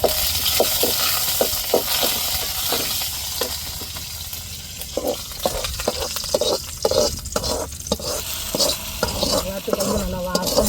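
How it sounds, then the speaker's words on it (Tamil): Curry leaves crackle and sizzle in hot oil as they are stirred, with a continuous frying hiss and repeated clicks and scrapes of a spoon in the pan. "இப்போ கருவேப்பிலை சேர்த்துக்கிறோம்"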